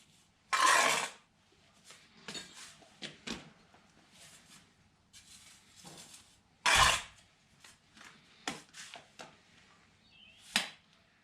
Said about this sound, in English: we can drop a brick on top again before we raise the line